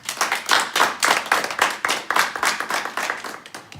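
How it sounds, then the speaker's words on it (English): An audience at a press conference claps in a steady, brisk run of hand claps, moderately loud and close, with no voices over it. "We can clap our hands for them."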